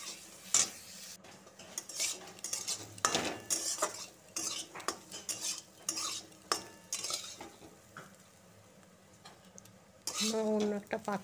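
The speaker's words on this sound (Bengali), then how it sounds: "অন্য একটা পাত্রে তুলে রেখে দিচ্ছি।" A spoon scrapes fried beans, carrots and peas out of a pan into another vessel: repeated metallic clinks and scrapes at close range over a faint sizzle, ending in a louder burst of rattling.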